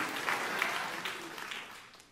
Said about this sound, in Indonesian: Tepuk tangan yang paling meriah untuk kemuliaan nama Tuhan.